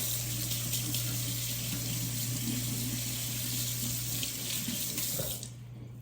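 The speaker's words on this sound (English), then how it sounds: "Let me rinse my hands 1 sec." Tap water runs steadily into a sink as hands are rinsed, a continuous close splashing hiss with a low hum beneath, cutting off abruptly near the end and leaving quiet room tone.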